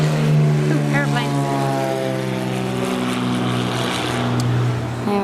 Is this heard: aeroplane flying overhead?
yes